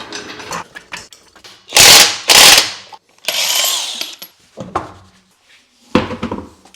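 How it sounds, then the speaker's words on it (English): A floor jack lifts the rear axle of a 4th or 5th gen Toyota 4Runner or Tacoma, giving loud bursts of metallic ratcheting and clanking separated by short pauses, close up with no talking. "I'm gonna quickly jack up the entire rear axle."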